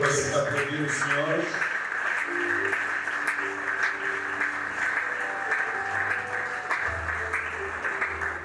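A church congregation applauds to acclaim the Lord, a sustained, steady wash of clapping lasting several seconds, with sung or spoken tones from the front audible over it.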